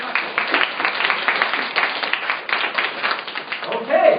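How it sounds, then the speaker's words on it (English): An audience claps for a presenter at an English class in a steady patter of many hands, fairly close, that carries the full length and swells near the end. "let's give her the greatest round of applause"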